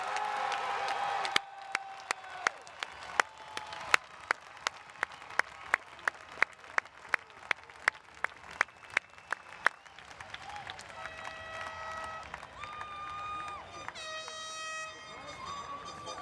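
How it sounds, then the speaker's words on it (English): Applause for the graduating Carroll class of 2021 at a graduation ceremony, a burst of clapping at the start followed by sharp, evenly spaced horn-like blasts and a shifting tonal signal. "How about one more round of applause for all the graduates of 2021?"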